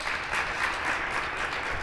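Audience at a women's meeting workshop applauds steadily, a soft, even wash of many hands clapping for a couple of seconds with no voices on top.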